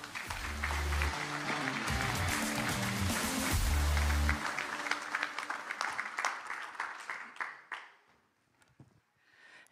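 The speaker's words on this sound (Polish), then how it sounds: "wielkie brawa, Karolina Pikuła" Audience applause for Karolina Pikuła at a Polish political event, sustained clapping over loud bass-heavy stage music that fades, then trailing off into scattered claps and near quiet at the end.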